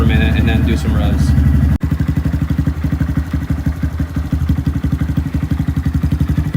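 A 2018 Honda Grom motorcycle with a Yoshimura R2 exhaust, baffle removed, idles while warming up in a driveway, a loud, close, rapid even thumping after a brief blip, with talk near the start.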